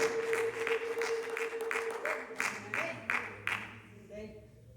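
A congregation claps together at a church service in quick rhythmic bursts, a mid-level sound with a faint steady tone and voices running underneath.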